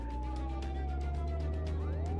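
Police car siren in the video game Contraband Police, a wailing tone sweeping up and down over a low steady engine drone, fairly quiet throughout.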